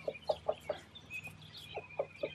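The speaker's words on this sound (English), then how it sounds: "Beautiful black rooster" A black rooster with a floppy comb clucks in a run of short, close, moderately loud calls, a rapid cluster early on and a few more after a brief pause.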